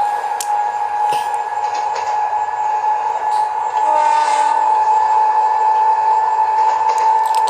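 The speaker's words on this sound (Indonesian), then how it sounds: "Kita liatin keretanya yang ini guys." A KRL JR 205 electric commuter train in the Hmmsim 2 train simulator game sounds a steady, loud horn tone that holds throughout, with mechanical clicks and rising hum partway through.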